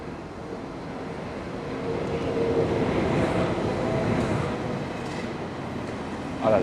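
ICE train at a station platform, a steady low rumble that swells slightly in the middle, with a faint squeal near the end and no talking.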